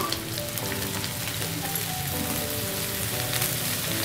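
Potato pieces fry in hot oil with a steady dense sizzle and crackle, close and continuous, with a faint stirring scrape, no one speaking.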